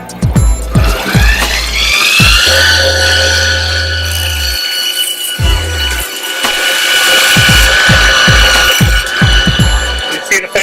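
A multitool belt grinder running a 1200 grit Trizac belt against a rusty old sledgehammer gives a loud, steady mechanical whir with shifting pitch and repeated low thumps as the head is worked across the belt, with no talk.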